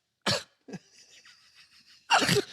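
Two sharp coughs close to the microphone, a pause with a faint high whine, then a harsher, longer burst of coughing.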